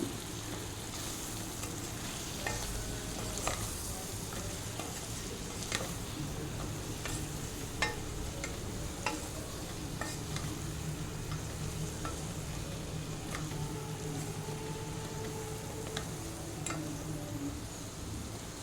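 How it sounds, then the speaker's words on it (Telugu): Spice powder for brinjal pulao sizzles and fries in a pan while a spoon stirs it, giving a steady close crackle with regular light ticks of the utensil against the vessel. "మసాలా పొడి వేసి ఒక రెండు నిమిషాలు దాన్ని వేయించాలి బాగా కలుపుకోవాలి"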